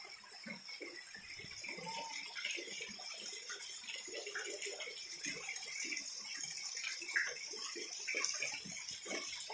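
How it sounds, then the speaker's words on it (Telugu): Water rushes steadily down a waterfall from above in a forested area near a temple, a constant broadband wash with a faint rattle, fairly distant and without voices. "పైనుండి జలపాతం అలా వస్తూ ఉంది, మీరు గమనించవచ్చు."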